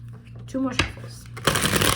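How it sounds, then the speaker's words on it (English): A deck of tarot cards being riffled and shuffled close up, with a brief voice murmur partway through and a louder burst of card flutter near the end. "Okay, two more shuffles."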